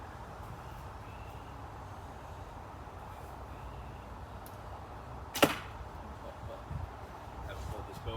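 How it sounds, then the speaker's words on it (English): A wooden fir arrow is shot from a vintage Bear Tiger Cat 50-pound recurve bow, one sharp swish and thump standing out over a quiet outdoor background. "Now let's see how the wooden arrows shoot with my classic vintage Bear Tiger Cat"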